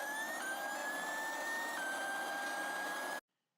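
A race car in Gran Turismo Sport howls at full throttle around Sainte Croix, a steady high engine whine that steps up with each gear change before cutting off abruptly.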